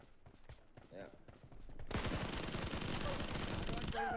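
Gunfire in a shooter video game starts partway through as a sustained, dense burst of rapid automatic shots, loud and continuous to the end, after some quieter in-game movement and faint voice earlier.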